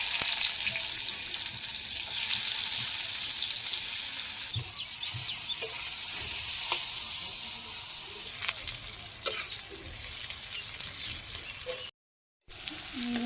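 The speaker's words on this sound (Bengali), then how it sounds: "এখন এই যে ভাজির জন্য যে করলা রাখছি সেটাই ভাজি করে রাখছি।" Bitter gourd slices sizzle steadily as they fry in a pan, with occasional scrapes and knocks of stirring over continuous close frying hiss and a brief gap near the end; no one speaks.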